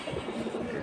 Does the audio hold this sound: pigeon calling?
yes